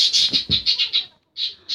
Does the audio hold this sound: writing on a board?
no